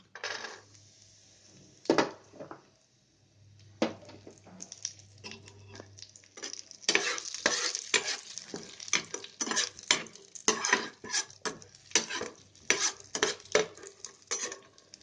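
Pistachio pieces roast in a pan for dry-fruit ladoo, stirred with a utensil: a dense run of quick dry scraping and rattling clinks, sparse at first, then steady and busy, close and moderately loud.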